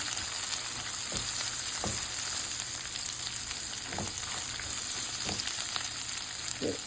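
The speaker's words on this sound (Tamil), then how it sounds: "நல்லா வதக்கி விட்டுக்கோங்க. பீர்க்கங்காய் சுருண்டு வரணும்." Ridge gourd sautéing in a pan for a thuvaiyal side dish, a steady close sizzle with a spoon scraping and stirring at irregular intervals and no talking.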